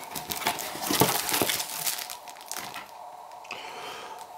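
Packaging paper crumpled and crinkled by hand while a Canon 100mm f2.8 USM Macro lens is unboxed, a close, continuous dense rustle with sharper crackles peaking early, then easing to softer handling.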